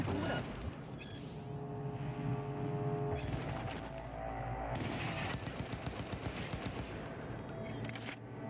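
Dense automatic gunfire from the video game Cyberpunk 2077 fills the whole clip: loud, continuous bursts with shell-casing clinks and metallic scrapes, no talking.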